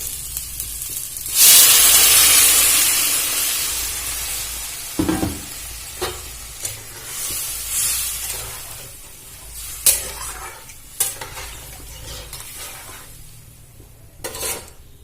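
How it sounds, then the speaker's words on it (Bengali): Water poured into a frying spice paste for a Bengali potato-and-egg curry: a sudden loud hiss and sizzle that slowly fades, followed by scattered clinks of a spoon stirring against the pan. "আমি এর মধ্যে এবার জল দিয়ে দেবো"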